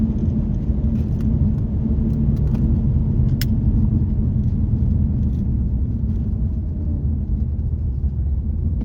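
A 2015 Ford Mustang with a 6R80 automatic transmission and a modified exhaust, heard at a race track, gives a loud, steady low engine rumble that holds continuously with no one talking.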